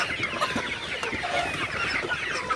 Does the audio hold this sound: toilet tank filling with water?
no